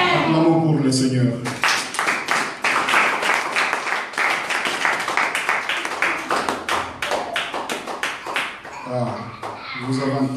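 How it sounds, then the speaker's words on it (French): Church congregation clapping and cheering in praise, a dense run of claps carrying on for several seconds, with singing voices at the start and at the end. "Acclamons pour le Seigneur"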